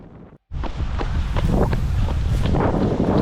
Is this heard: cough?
no